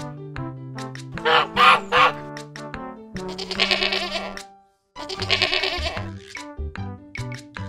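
A goat bleats in two long, wavering calls over a bouncy musical backing, each cry loud and up close.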